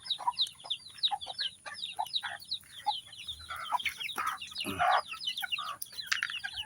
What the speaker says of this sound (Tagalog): Kaya unahin muna natin itong ating mga sisiw.